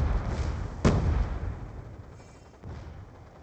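A single sharp gunshot or blast cracks out in a tactical shooter game, followed by low rumbling ambience and a softer thud near the end, with no voices.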